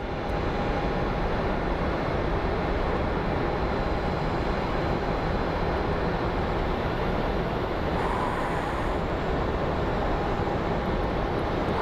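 A Mesa Airlines airliner at Phoenix Sky Harbor airport gives off a steady, broad engine roar at moderate distance. The sound stays fairly constant, with a faint whine running through it and no talking.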